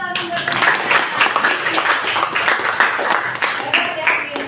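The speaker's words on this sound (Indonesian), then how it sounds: "Tepuk tangan buat" A classroom of eighth-grade students clapping their hands, a busy, fairly loud patter of many small claps close by, mixed with children's voices.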